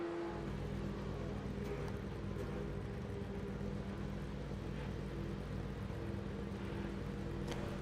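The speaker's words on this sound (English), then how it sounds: "I already hear cars going by to pass him" Race cars driving past in the iRacing video game on an Italian circuit, a steady engine drone and whir throughout with faint passing swells, moderately quiet with no talk.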